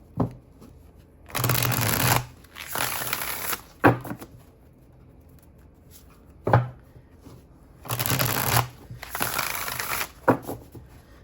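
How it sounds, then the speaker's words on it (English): A new tarot deck on sturdy cardstock is shuffled by hand in two bursts of riffling, each followed by sharp taps and knocks as the cards are squared up, close and clear with no talk. "let's give it the shuffle"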